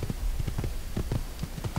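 Horse hooves clip-clop steadily in the Assassin's Creed video game, a quick, even rhythm of close, soft thuds continuing throughout with no talk.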